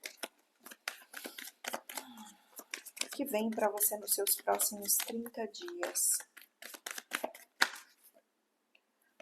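A Cigano fortune-telling card deck being shuffled by hand: crisp, rapid flicking and riffling bursts repeated throughout, heard close and underneath a person speaking.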